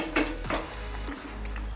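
Ridge gourd with a little garam masala powder being stirred in a kadai held steady by hand, heard as a few brief scraping strokes against the metal over a soft background hiss, fairly quiet.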